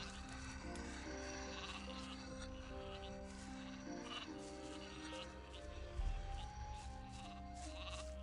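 Sheep bleating in the Gothic video game, several repeated bleats over steady game ambience and background music, moderately loud throughout.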